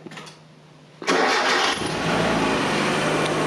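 A 1.8-liter Mazda Miata engine starts: a brief starter crank, then the engine catches abruptly and roars, settling into a loud, steady idle close by.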